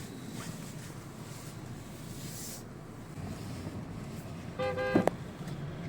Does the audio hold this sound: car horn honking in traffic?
yes